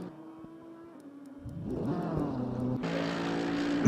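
Racing-car engines from the GT3 sim Assetto Corsa Competizione at Misano: a steady drone rises into a louder, harsher roar partway through, then a bright hissing layer joins as the revs climb.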